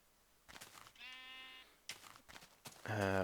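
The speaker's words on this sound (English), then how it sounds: "And the wolves are just butchering these sheep." Sheep bleating in the Minecraft video game as wolves attack them, several distinct drawn-out bleats spaced apart, the last one louder and closer, with faint game noise between.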